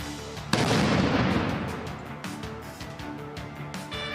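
A single sharp simulated explosion set off by sappers during an emergency services drill at a school bursts out after a short pause, then a rumbling tail slowly decays into background noise.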